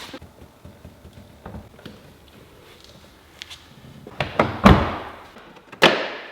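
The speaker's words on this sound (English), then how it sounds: "let's go ahead and slap on the door." Quiet clicks and fiddling lead into a solid thunk as a Porsche GT3 RS door is fitted and shut, followed by a second firm slam a moment later.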